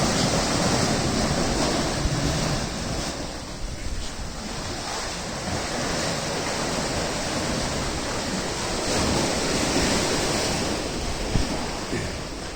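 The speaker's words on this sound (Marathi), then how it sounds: "हे असं पाणी समुद्रातलं इकडनं आतमध्ये घुसतंय." Sea waves crash and surge through rocks on the Konkan coast, a continuous loud roaring wash of surf with wind buffeting the microphone and no talk.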